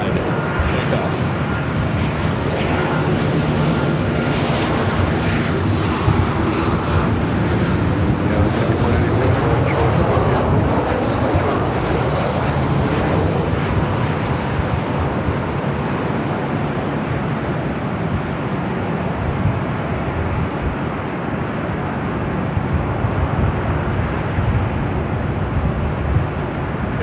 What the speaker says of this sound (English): It's looking like Caleb might be heading up here for north side takeoff.